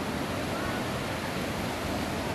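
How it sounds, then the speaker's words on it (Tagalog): Rough sea during Typhoon Ramil roars along Dalakit Boulevard, a dense continuous wash of surf and wind noise at steady high loudness. "Masyadong maalon."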